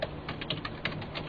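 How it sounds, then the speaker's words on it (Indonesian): Fingers type on a computer keyboard in Microsoft Word, a rapid, even run of close, light key clicks. "Saya tinggal mengetik di sini"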